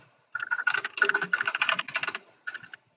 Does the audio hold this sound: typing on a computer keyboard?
yes